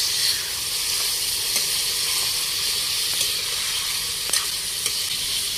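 Pork frying in plenty of oil in a pan, a steady loud sizzle and hiss running throughout with a few faint stirring clicks, no voices.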